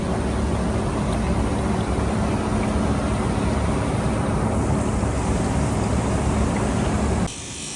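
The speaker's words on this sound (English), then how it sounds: "Again, back onto the buffing wheel, get a nice polish onto that copper." A buffing wheel polishes a copper-plated vintage motorcycle shock absorber with a loud, steady broadband roar and whir, then drops abruptly to a quieter hum near the end.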